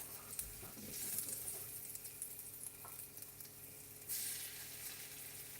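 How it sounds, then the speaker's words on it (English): An egg fries in a hot pan with a faint, steady sizzle, joined by a few soft scrapes and clinks of stirring, with no talk. "So I'm just going to just cook the egg."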